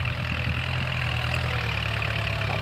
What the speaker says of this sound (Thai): เสียงรถไถดังแห้งแห้ง